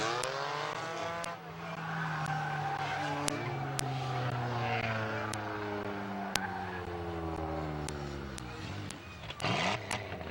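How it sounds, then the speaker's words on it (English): A race car spinning out in turns three and four at Midvale Speedway, tires skidding and squealing as engines drone and rise in pitch, with sharp clicks and a close, steady roar. "We have a spin down in 3 and 4, the double O Blake Miley."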